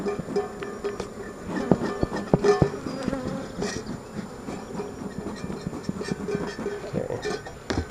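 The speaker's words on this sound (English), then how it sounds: "the guard bee will leave you alone" Swarming bees buzz loudly and continuously around an open beehive during an inspection, a dense hum with close passes of individual bees and faint handling clatter.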